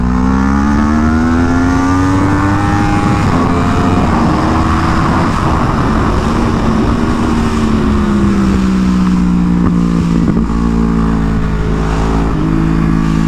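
A 2015 Yamaha YZF-R1 race-prepped sport bike, geared down one tooth at the front, screams loudly and continuously on a track, its pitch climbing and dipping through quick gear changes.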